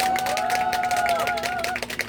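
Audience applause at an outdoor nanta drumming performance in Gangneung, after the performers bow, heard as dense steady clapping with crowd noise and a sustained tone running through, fading near the end.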